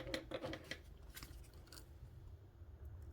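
Scissors trimming the end of a rolled sticker strip, a few quick close snips at the start followed by quiet rustling, all faint.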